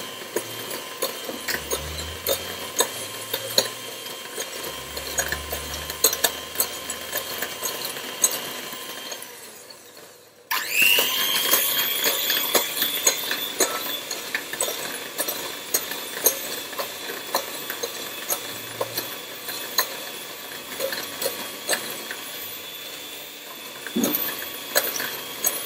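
A mixer creams butter and sugar, the butter too firm to blend smoothly, with a steady mechanical whir and rapid clacking that grows louder and denser partway through and then runs on continuously.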